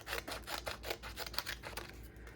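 Scissors snip little paper bits in a quick, regular series of about ten crisp, soft cuts, close up and quiet with no speech.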